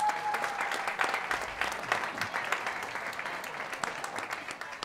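A crowd at a school secondary sports awards ceremony in Bangkok applauds as a coach comes up to collect an under-13 basketball award, with sustained, moderately quiet clapping from many hands and a few sharper individual claps standing out.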